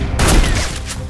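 A loud, close burst of gunfire from a shotgun in the video game Free Fire hits sharply, then decays through a short rolling rumble over about a second, with no talk.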